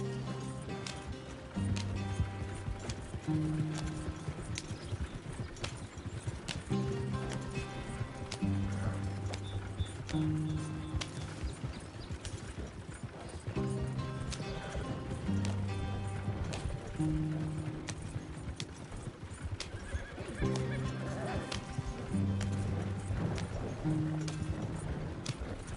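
A horse in the video game Red Dead Redemption 2 trots and gallops with steady, rhythmic hoof clip-clops throughout, over a bed of game music, faint and continuous.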